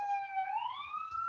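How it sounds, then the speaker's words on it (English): A faint emergency vehicle siren wails in the distance behind a county commissioners' meeting, its tone slowly sliding upward in a single long sweep. "I got sirens in the background."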